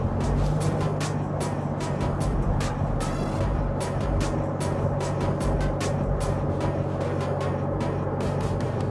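A Toyota Land Cruiser LC300 engine drones steadily as it climbs a big hill and shifts down a gear, with rhythmic ticking and road noise throughout and no talking.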